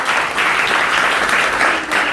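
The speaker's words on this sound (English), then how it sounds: "let's give Manish and Ashuma a big round of applause" Audience applause for Manish and Ashuma at a Sunday talk gathering, a dense, steady wash of many hands clapping that fills the whole stretch at close range and full loudness.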